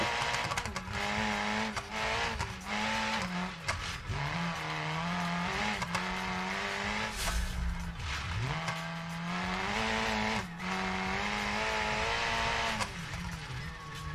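A car engine in the BeamNG.drive driving game drones steadily throughout, its pitch rising and dipping as the car accelerates and eases off, with brief tire noise, loud and close with no talking.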